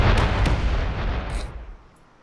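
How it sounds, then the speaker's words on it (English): Explosions in the video game Space Engineers boom in quick succession, two or three sharp blasts at the start that die away into a fading rumble and near silence. "There was a lot of explosions."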